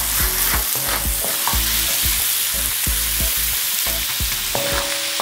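Onions frying loudly in a pan for a masarsa-style pork menudo, a constant dense sizzle broken by repeated clanks and scrapes of a spatula stirring throughout, with no talking.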